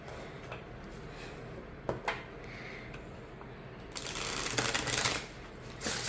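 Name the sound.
shuffling a Llewellyn Tarot of Vampyres card deck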